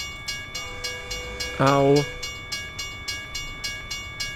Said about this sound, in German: Ja, ist ein kleiner Zug.